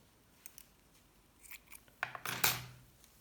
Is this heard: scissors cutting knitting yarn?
yes